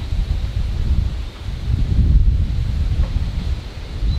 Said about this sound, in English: Oh, that wind decided to pick up.